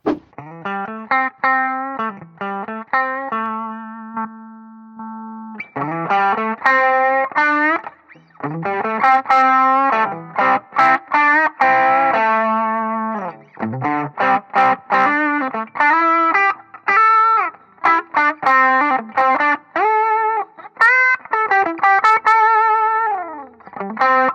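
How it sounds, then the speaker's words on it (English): Electric guitar played through a TS10 overdrive pedal into a Thermion Zero, a warm, mid-heavy bluesy crunch, riffs and chords in short phrases with brief pauses, loud and close with no talking. "I'm going to use the TS10 first, just to see if it'll do some kind of bluesy overdrive."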